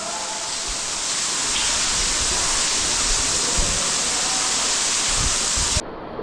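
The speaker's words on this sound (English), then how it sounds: "I am behind a cave waterfall right now." Water pours steadily behind a cave waterfall, a dense, unbroken rush that fills the space close by and loud, cutting off abruptly near the end.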